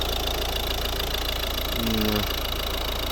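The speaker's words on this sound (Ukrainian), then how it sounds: "Ось робота двигуна." A 2012 Volvo V50 1.6 D2 diesel engine idles steadily with a low, even rumble and faint mechanical knocking, continuous and close, with no talking.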